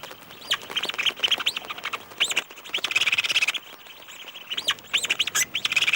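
Storm petrels call at night around their stone nest chambers in a seabird colony. Dense bursts of repeated chattering and purring calls rise and fall, loud and close, with only brief pauses.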